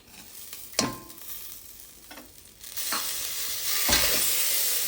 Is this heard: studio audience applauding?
no